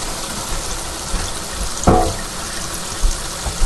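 Cold water sprays from a kitchen sink sprayer, a steady close rushing hiss with a brief splash partway through.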